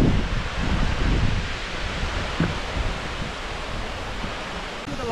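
Yongyeon waterfall at Juwangsan, running low on water, makes a soft, steady rushing wash at moderate distance, with light rustling and a few faint thumps early on.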